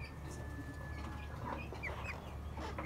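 A small chick chirps in thin, high peeps, several short calls close by over a steady background hum, no talking.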